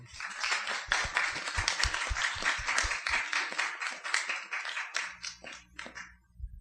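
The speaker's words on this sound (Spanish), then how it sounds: "Un aplauso, por favor" Audience at a panel talk on world-building applauding, a dense burst of clapping that thins out toward the end, with a low hum and faint cheering underneath.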